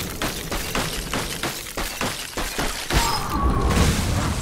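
Hearthstone's Blizzard spell effect: a loud, dense icy crash and shatter with a rapid rhythmic pulsing, then a sustained frosty roaring swell with a high glinting ring toward the end. No voices.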